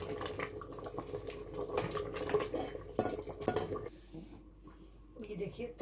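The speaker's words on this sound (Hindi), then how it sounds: "मैं आपको डिश आउट करके दिखाती हूँ।" Mutton and green moong dal curry ladled out of a cooking pot: clinking metal spoon against pot and dish, wet scooping sounds and scattered knocks, close and fairly busy, with a voice talking intermittently.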